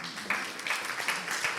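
A congregation claps together in a Messianic worship service, a brief patter of hands in a room, moderately loud and steady with no voices over it.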